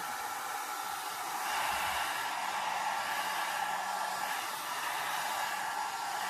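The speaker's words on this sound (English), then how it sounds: "I'll hold it up a bit because this dryer seems to be tending to warp my paper." A hair dryer blows hot air over alcohol ink on paper, a steady, close whooshing hiss that runs unbroken for several seconds with no talk.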